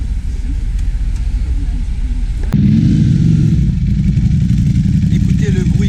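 A Ducati Panigale V2 motorcycle rumbles close by at a supercar gathering. A steady low engine drone grows louder halfway through as revs rise, with background crowd and traffic noise around it.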